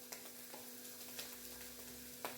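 Onion, ginger and garlic sautéing in a pan, a soft steady sizzle with a few faint stirring scrapes, quiet and close with no talking.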